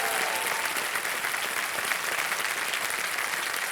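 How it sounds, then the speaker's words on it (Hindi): A game show studio audience claps together in a sustained, even burst of applause, moderately loud and dense from start to finish, with no speech on top. "तो एक बार फिर तालियां बजाएं"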